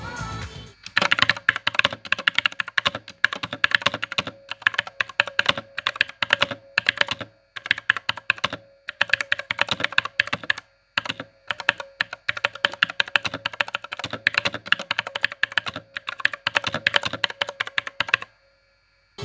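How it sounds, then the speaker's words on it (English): Rapid clacky keystrokes on an Armaggeddon MKA-3C Psychfalcon mechanical keyboard in bursts, with brief pauses between runs of typing, close and crisp. "So here is the typing test."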